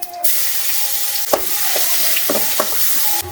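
Sliced big onions hit hot oil already holding fennel, cinnamon and cloves, giving a steady close sizzle, broken by a few sharp spoon taps and stirring scrapes against the pan.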